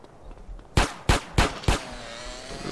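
Gunfire in GTA San Andreas: four sharp, loud shots in quick succession against quiet in-game background noise, with no talk over them.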